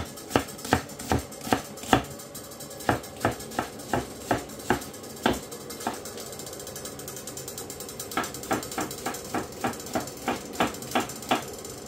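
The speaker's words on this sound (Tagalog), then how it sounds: "I-slice natin ng sibuyas." A knife slices an onion on a cutting board in quick, sharp taps, a steady rhythmic run of chops, a brief pause, then another even series, close and crisp with no talking.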